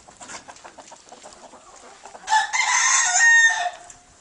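Farmyard chickens and roosters: soft clucks for the first seconds, then a loud rooster crow that rises and holds before fading near the end.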